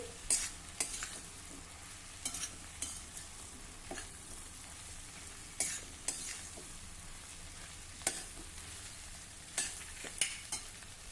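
Fresh, tender okra fries in a pan as it is stirred, soft continuous sizzle with scattered scraping strokes of a spoon, close but fairly quiet.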